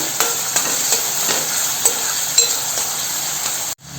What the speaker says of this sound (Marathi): आता आपण त्यात ना कांदा टाकून घेऊया. कांदा पण आहे ना तेलावर छान असा परतून घ्यायचा आहे.